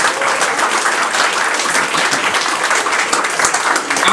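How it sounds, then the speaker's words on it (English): Sustained, dense applause from a crowd at a political victory celebration, loud and steady throughout with no talk over it. "I think we should give a round of applause for participating."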